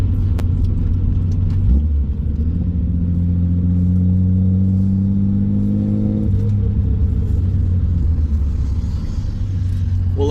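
A 1973 Datsun 240Z engine pulls hard through the gears, its loud droning note climbing in pitch, dropping at a shift, then rising again before settling into a steady cruising rumble.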